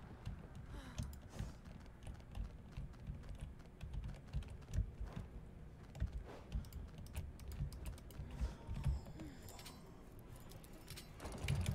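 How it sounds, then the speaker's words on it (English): Frantic typing on a computer keyboard, a dense rapid clatter of keystrokes heard close up and without pause, with no speech over it. "that is some frantic typing"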